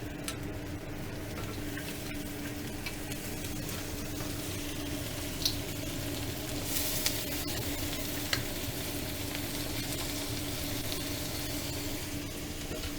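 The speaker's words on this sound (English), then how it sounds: "Okay, lobster going in." Lobster sizzling in a hot pan for spicy garlic lobster noodles, a steady close frying hiss throughout with occasional scrapes and clinks of stirring, no voices.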